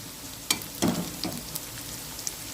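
Onions frying in a pan for a prawn and okra curry, with a quiet, steady sizzle broken by a few brief louder crackles and stirring sounds, heard alone.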